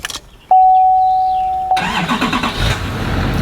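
A truck's engine cranks and catches right after a steady electronic beep, then runs at a loud, rough idle close by.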